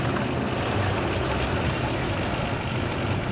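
A 1932 Rolls-Royce Phantom II Continental engine idling, a steady, quiet low rumble with a soft exhaust note, continuous and unbroken throughout.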